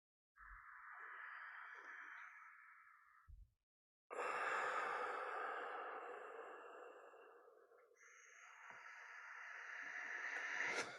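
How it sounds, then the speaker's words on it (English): Three slow meditative breaths drawn through the central channel during a seated meditation, each a long soft airy exhale. They are heard close and quiet, separated by brief silences, with no speech. "now we're working with the central channel for the 3 breaths"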